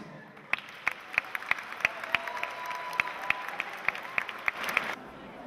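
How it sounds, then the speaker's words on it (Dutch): Scattered, fairly sparse clapping from a modest crowd at a community evening event at De Klinker, honouring two people; individual claps stand out at irregular intervals for about five seconds before stopping abruptly. "En ik zou daarvoor applaus voor deze twee mensen."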